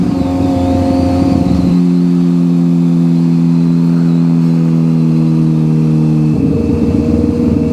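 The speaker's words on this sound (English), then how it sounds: "Bike sounds good." A Suzuki GSX-R 750/600 motorcycle engine running after a transmission replacement and motor install, a loud steady close drone that settles to a lower idle in the middle before rising again, with no talk.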